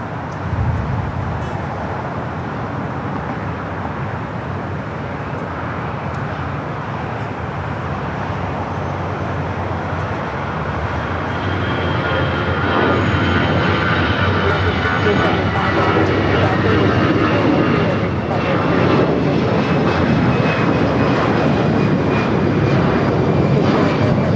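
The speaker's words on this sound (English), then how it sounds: "Going to Dallas Fort Worth on an Airbus A321." An Airbus A321 airliner bound for Dallas Fort Worth takes off at LAX, a broad jet rumble that grows louder and brighter partway through as whining engine tones rise and the roar fills out, with voices talking underneath.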